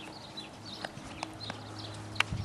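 Horse hooves clip-clopping at a walk during a riding lesson, a few soft, irregular thuds with a faint outdoor background and no talk.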